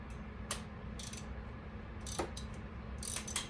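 A ratchet works a bolt loose on a 2012 Dodge RAM 1500, faint quick clicking bursts recurring over a steady low hum of the shop.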